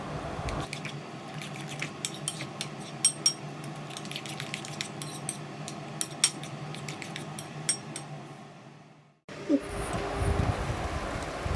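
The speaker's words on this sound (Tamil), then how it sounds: "உப்பு மிளகுத்தூள் முட்டையோடு நல்லா மிக்ஸ் ஆகிற மாதிரி நல்லா கலக்கி விட்டுக்கோங்க" A fork or whisk beating eggs with salt and pepper in a bowl gives a string of light, quick metallic clinks and taps, steady and close, before a brief pause and a shift to a duller rustling noise.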